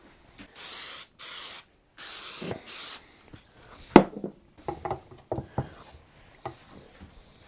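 Several short, loud aerosol bursts of super glue activator sprayed during a custom Telecaster guitar build, four hissing sprays in quick succession followed by a sharp tap and light workshop handling noises.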